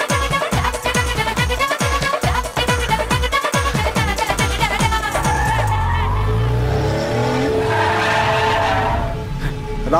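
A car's tires squeal and skid loudly in a dubbed Hindi action film scene at night on a road, the screech building into a drawn-out slide before settling into a lower rumble with music underneath.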